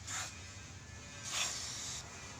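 Brake cleaner aerosol sprayed onto opened brake parts, two short hissing bursts close to the mic with a quiet pause between them, no voices.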